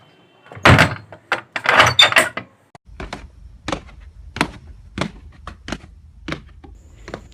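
A door swings open inside a house, a clunky burst of wooden knocks and rattles followed by a string of sharp, evenly spaced clicks and taps against a low hum, close and fairly loud with no talking.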